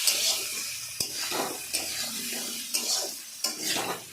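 Salt, turmeric and chili powder are stirred into a cabbage and fish head ghonto in a pan. Scraping spoon strokes recur roughly every second over a soft sizzle, close and fairly quiet.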